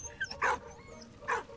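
Dog barking in the video game Valiant Hearts: two short, sharp barks about a second apart over low game ambience, with a few fainter yips between them.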